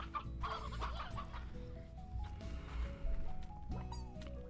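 Chickens cluck in the Slime Rancher video game, a few soft bursts of clucking set against a quiet musical game backdrop.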